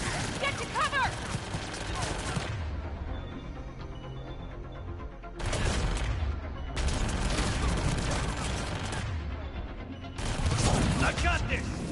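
Gunfire in a Mass Effect 3 video game battle, bursts of rapid weapon fire in several waves with mechanical clatter and shouting voices in between.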